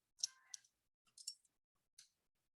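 Clicks of a volume control knob being turned, four short, crisp clicks spaced apart and fairly faint, alone with no talking.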